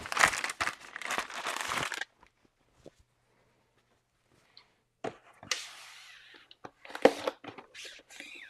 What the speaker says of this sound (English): I'm going to use my favorite water-based cleaning solution, Costco baby wipes.